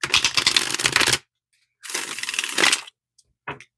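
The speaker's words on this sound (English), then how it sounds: "Just going to give it a couple of shuffles." Two bursts of tarot cards being riffle-shuffled, each about a second long, followed by a couple of short card taps; no talking.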